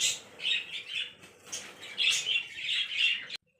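Pet lovebirds flutter inside a large cage, wings flapping in quick bursts mixed with high chirps, close and fairly loud, ending abruptly.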